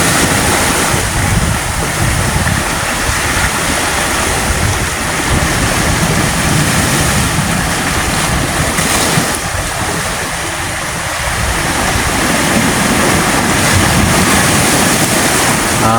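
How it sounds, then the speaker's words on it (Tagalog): Rough sea waves roar continuously and loudly off Samal Island, Davao, with heavy surf churning and wind buffeting the microphone throughout. "Ang dagat ngayon medyo malikot."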